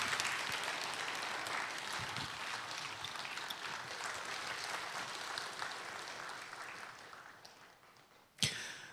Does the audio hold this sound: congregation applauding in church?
yes